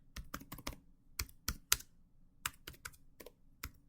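Typing on a computer keyboard: short, crisp key clicks in uneven bursts and single taps, close and fairly quiet, with no talk.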